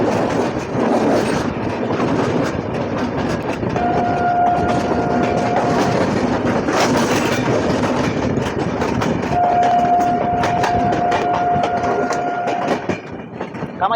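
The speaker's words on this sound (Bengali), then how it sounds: "কামাখ্যা রাঁচি এক্সপ্রেস চলে গেল" Kamakhya–Ranchi Express rushing past near New Farakka Junction, a loud steady roar of rolling wagons with rhythmic clatter sustained throughout and two long horn blasts, one early and one later.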